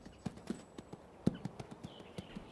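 Horse hooves clip-clop at close range in an uneven but steady series of about a dozen sharp strikes, each knock clear and distinct against a quiet background.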